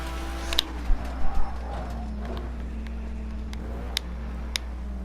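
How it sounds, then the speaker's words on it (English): A car bumper rattling while driving in a video game: a few sharp, irregular clacks and knocks over a steady low engine drone, near and moderately loud. "this bumper rattling"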